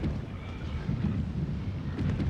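In the video game Zanki Zero, a thunderstorm rolls through as a low, continuous rumble of thunder, moderately loud and heard alone.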